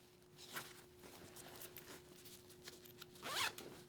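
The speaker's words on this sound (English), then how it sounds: "A couple zips here, right? Up in the chest area." Zipper pull on the chest pocket of an RST Pro Series Supersport-K CE leather motorcycle jacket, a single quick close zip near the end after quieter handling rustles.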